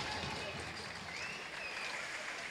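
A crowd applauding at an ice hockey game between Gyergyói Hoki Klub and the Dunaújvárosi Acélbikák, with steady, dense, distant clapping filling the arena, while an announcer talks over it.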